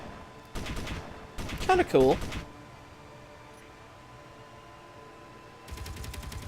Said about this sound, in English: There's the Gatling cannon.